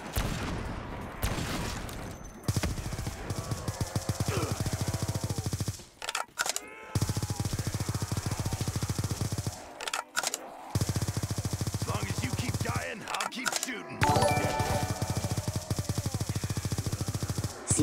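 Call of Duty zombies gameplay gunfire, long rapid automatic bursts broken by brief pauses, loud and close with a player talking over parts of it.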